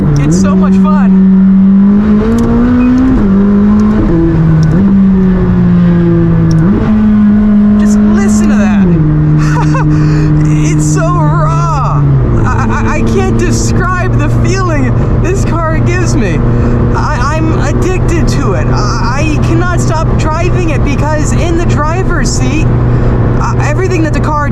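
A McLaren 600LT engine is revved hard to high RPM, its steady harmonic tone stepping up and down in pitch before settling into a sustained loud drone, with talk running over it throughout.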